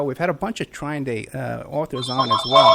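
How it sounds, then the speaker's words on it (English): A telephone rings with a steady, high electronic tone in the last second, sounding under close conversational speech from people talking during an interview. "I'm sorry about the phone ring."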